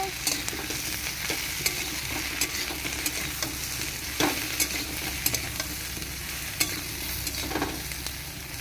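Soya chunks are stirred in a hot frying pan, with a steady oily sizzle and repeated sharp scrapes and clicks of the spatula against the pan, close and fairly loud.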